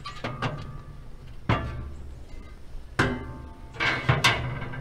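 Metal sear grate lifted out of an Oklahoma Joe's Rider DLX pellet grill: several sharp clanks and scrapes of metal, close and fairly loud, in three separated bursts with quieter rattling between.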